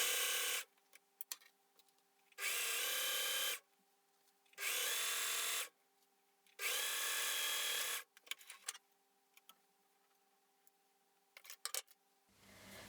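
A sewing machine running a short straight stitch on a dress-making project, heard in four loud, steady bursts of a few seconds each with brief pauses between, close up and alone.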